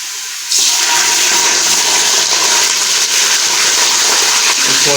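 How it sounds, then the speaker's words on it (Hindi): Beef frying in a pot with onions during degi biryani preparation, a steady loud broadband sizzle that starts abruptly after a brief quiet moment and continues unbroken, with no talking. "इसको अच्छी तरह से बीच में आपने फ्राई करना है 5 से 6 मिनट के लिए"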